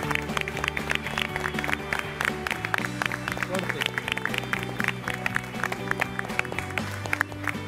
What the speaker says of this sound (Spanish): Un fuerte aplauso para nuestro cocinero